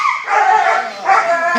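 A young personal protection dog gives a brief, close, loud vocalization, two strained bark-like yips over about a second and a half.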